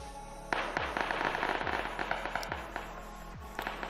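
Gunshots crack in the battle royale game PUBG Mobile, a string of separate reports spaced about a second apart, moderately distant and echoing, with a faint steady hum underneath.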